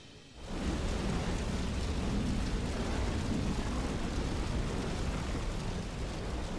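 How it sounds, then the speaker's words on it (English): Explosion of a self-destructotron in the video game Xenoblade Chronicles 3: a sudden onset swelling into a sustained, dense roar of rumbling debris that holds loud and steady without voices. "Now that was an explosion."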